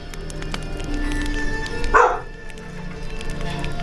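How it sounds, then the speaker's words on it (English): A dog gives a single sharp bark partway through, over a steady indoor background hum, with no other barking before or after. "It's probably not what that bark means, but I'm telling you that's what that bark means."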